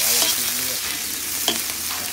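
Garlic and onion sauté in a pan for ginataang kamansi, a steady close sizzle running the whole time with a couple of brief stirring scrapes and a faint tonal hum underneath.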